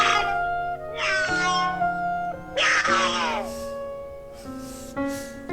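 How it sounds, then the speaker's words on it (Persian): A cat meows repeatedly in long, drawn-out, whiny calls, loud and close, with several sustained cries following one another. "گربه است."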